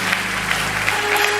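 A church congregation claps in steady, moderately loud applause with a faint tone lingering beneath.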